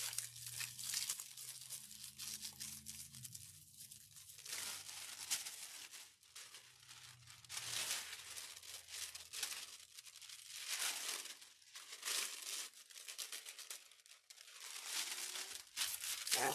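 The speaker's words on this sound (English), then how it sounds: "if you ever feel like the foil is sticking really good, instead of just trying to rip it off, shake it a little bit" Aluminum foil crinkles and tears while being peeled and shaken off a DIY garden gazing ball, in repeated close, crisp rustling bursts.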